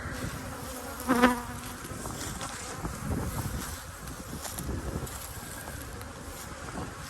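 Honeybees hum steadily at a hive after a VarroxSan mite treatment, a dense buzzing drone with a louder close pass early on and light wind noise.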